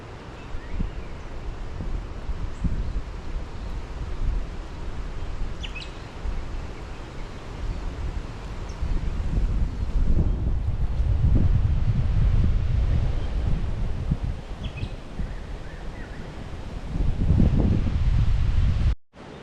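Strong gusts buffet the microphone on a riverside canyon hiking trail, a steady low roar that swells louder around the middle and again near the end, with no talking.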